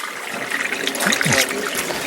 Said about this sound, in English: Has to be poured scientifically so that it goes around in a spiral.